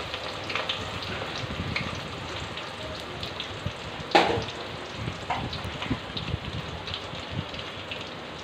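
Onions go into meat already frying in a pan, giving a dense, steady sizzle with a brief louder crackle partway through as they hit the hot oil, close up and without speech.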